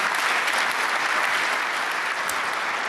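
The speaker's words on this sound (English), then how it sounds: "Let's give him a round of applause." Sustained, dense applause from a large crowd, loud and steady throughout with no pauses.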